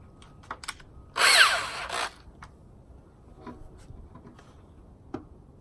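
A power drill driving a 1-inch wood screw into a horizontal bunk bed beam: one short, loud, whining burst of about a second, surrounded by faint clicks and handling sounds.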